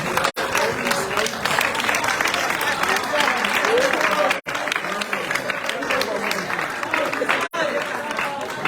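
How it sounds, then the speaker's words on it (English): A crowd at a Freetown press briefing applauds the mayor's staff, sustained close clapping running for several seconds with two short breaks, mixed with voices talking over it. "Let me applaud you now."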